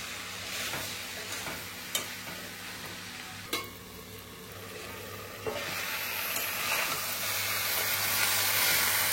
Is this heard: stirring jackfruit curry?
yes